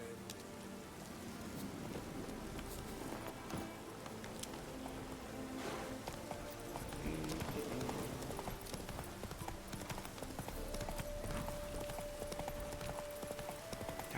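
Horse hooves clip-clop steadily in The Witcher 3 as the mount trots along, a continuous rhythmic clatter of fairly quiet hoofbeats with faint wind and rain-like ambience behind.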